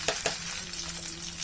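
Mustard paste hits hot mustard oil in a pan, a faint steady sizzle with two sharp crackling bursts at the start and a soft frying hiss throughout.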